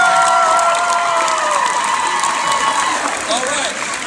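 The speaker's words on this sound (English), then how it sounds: "let's give them a big round of applause for their hard work and effort" A large convention panel crowd at San Diego Comic-Con 2017 bursts into loud, sustained applause and cheering that fills the room, with a few shouts over it before it eases slightly toward the end.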